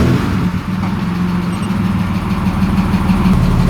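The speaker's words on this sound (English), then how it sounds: "This thing idles super low." A turbocharged BMW E36 engine idles very low and steady, a continuous deep rumble close by with no talk over it.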